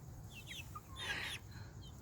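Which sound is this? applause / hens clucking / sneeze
hens clucking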